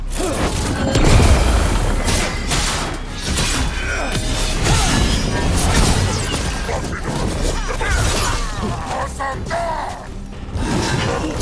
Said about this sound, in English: They have Gatlock cannons.